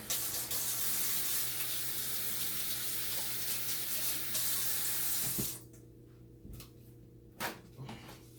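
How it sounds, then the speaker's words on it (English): Water runs steadily from a kitchen tap while hands are washed before preparing turkey wings, a continuous close hiss that stops abruptly, followed by a few faint clinks and knocks. "we're going to go ahead and first we're going to wash our hands"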